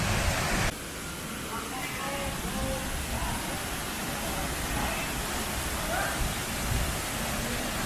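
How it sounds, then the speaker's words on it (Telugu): Vibuthi waterfall near Gokarna rushes as a steady broadband hiss heard from a distance on a trekking path, with a person talking over it. "మీకు వినిపిస్తుంది కదా వాటర్ ఫాల్స్"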